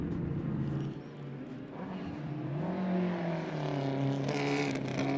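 Group C and A race cars, Ford Escorts chased by a big Holden XC hardtop, roar around the Winton circuit, engines rising and revving loudly as they pass close, with a continuous dense motor drone.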